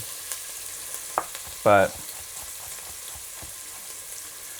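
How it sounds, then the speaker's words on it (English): Steady, faint sizzling of food frying in oil, with a few small pops and one brief spoken word. "I use so much oil it seems like I'm kind of deep frying it"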